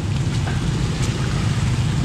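Rain falls steadily on a flooded market street in Vĩnh Thạnh after a dam flood release, a dense, even hiss that runs without a break through the short stretch and has no voices in it.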